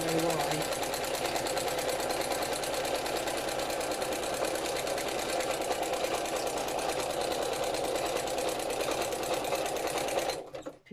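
A sewing machine needing a service stitches in a fast, steady mechanical whir with an odd rattling running through it, continuing without pause for about ten seconds before stopping abruptly.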